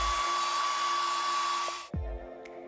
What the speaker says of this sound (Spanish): Coloca un secador de pelo en la otra manga.